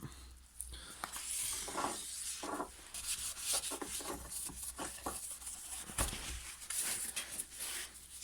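Fine wet and dry abrasive paper, around 400 to 600 grit, rubbing by hand along a pitted Stihl HLA 56 hedge trimmer blade, a close, soft scratchy sanding in repeated back-and-forth strokes.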